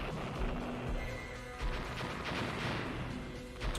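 A harvester unit blown up in a Dune 2000 tournament match gives a short burst of crashing explosion noise amid dense, continuous battle sounds of gunfire and blasts.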